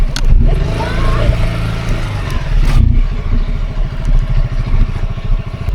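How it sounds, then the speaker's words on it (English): A motorcycle engine rumbles and revs up close in Phayao, Northern Thailand, its throbbing pitch rising as it pulls away, with a brief burst of noise in the middle. "Go for a ride in the motorcycle? Hop on, let's go!"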